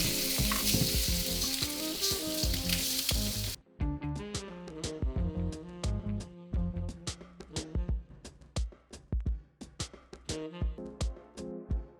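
Eggs sizzle in a hot pan of leftover fried rice, a loud steady frying hiss that drops back to quieter crackling and intermittent scraping taps of a utensil.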